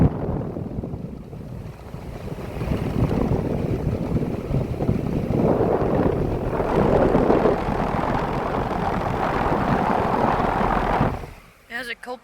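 A 2014 Daikin DX16SA 4-ton central air conditioner, a Copeland scroll compressor under a blanket and running a little rattly, gives a steady, loud rushing whoosh that holds for about eleven seconds, then cuts off abruptly.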